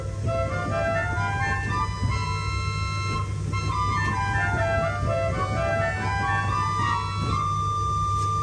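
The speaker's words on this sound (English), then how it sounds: "We have a Dulciana, which is an" Soft Dulciana 8-foot stop on an 1899 J.J. Binns pipe organ at Great Ayton, North Yorkshire, playing sustained chords and moving melodic lines over a steady low bass drone, continuous and even for the whole stretch with no talking.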